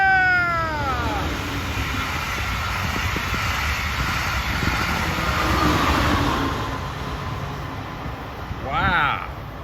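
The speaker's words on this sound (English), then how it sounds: "I knew he was going to give me a hello toot." A southbound Brightline passenger train rushes past in Sebastian, Florida, on the Florida East Coast line, its loud steady roar filling the scene while a short horn toot sounds near the start and another brief one near the end.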